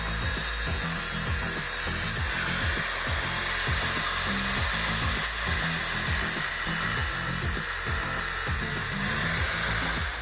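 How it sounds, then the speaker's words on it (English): An angle grinder cuts through small steel mounting tabs during a home clutch hydraulics repair on an MG ZS 180, a continuous loud high-pitched whine and grinding hiss with no talk. "While I've got the grinder out,"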